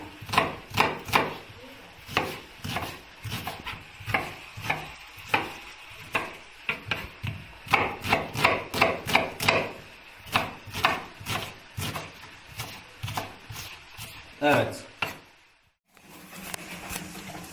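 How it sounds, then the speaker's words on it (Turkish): A knife chops a medium onion into cubes on a cutting board for a Turkish beef heart kavurma, making quick, steady, close knocks in bursts that slow near the end, ending in a brief silence. "Kavurma için bir adet orta boy soğan doğruyoruz küp küp."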